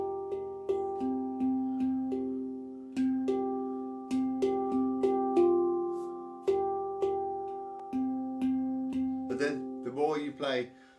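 A handpan struck one note at a time in a live evening jam, each tone ringing and overlapping the next in a steady, unhurried sequence, ending with a brief burst of vocal noise.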